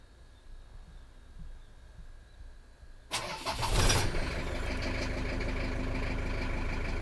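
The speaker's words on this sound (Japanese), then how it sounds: "エンジンかけるよ。" A quiet hum gives way to a camper van engine cranking and catching, then settling into a steady, loud idle close by.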